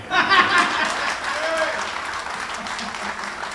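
An audience at a Hindi comedy poetry recital bursts into applause mixed with chuckles, loudest at the start and then settling into a steady, moderate clapping.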